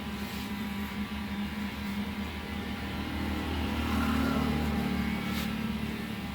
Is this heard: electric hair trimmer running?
yes